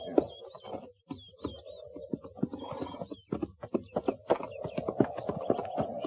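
Horses walking in a radio western set at a frontier cavalry post, hooves clip-clopping in a steady close rhythm, with brief voices and creaks around the footfalls.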